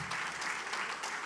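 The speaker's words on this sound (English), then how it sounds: "Hey, you got some claps." Audience applause at a university athletics hall of fame induction ceremony, a brief, soft burst of clapping heard from a distance in a hall.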